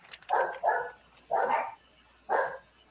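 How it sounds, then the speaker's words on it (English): Dogs barking indoors nearby in four short, sharp woofs, two quick ones close together and then two more spaced apart, moderately loud over a quiet background with no talking. "the dogs are going berserk, but that's what dogs do"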